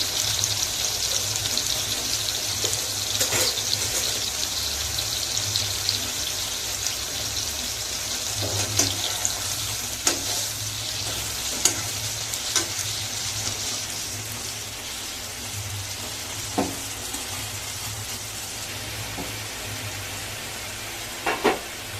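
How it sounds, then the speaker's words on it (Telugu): Stuffed brinjals sizzling in a pan, a steady close hiss of frying with scattered sharp pops and crackles throughout, no talking. "అన్ని వంకాయలను అలా వేసేసుకొని బాగా వేయించుకోవాలండి"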